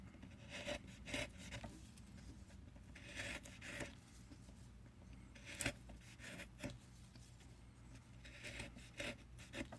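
Hand saw cutting through a wooden blank for a trout fishing top-shaped float, with bursts of rasping strokes in an uneven rhythm, fairly quiet and close, with pauses between the runs of strokes.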